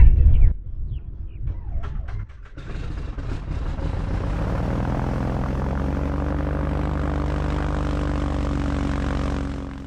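A Seneca twin-engine aircraft, parked on a Bahamas island airstrip, has its engine start up: a few sputtering cranks and pops, then a loud, steady propeller drone with a deep harmonic rumble, close to the cockpit.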